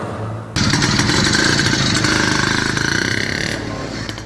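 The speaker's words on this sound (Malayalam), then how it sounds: "അവർക്കു പിന്നാലെ പ്രദീപും ബൈക്ക് പറത്തി" An audiobook sound effect of a motorcycle roaring off, its engine loud and steady right from the start, a continuous rumble that eases slightly toward the end.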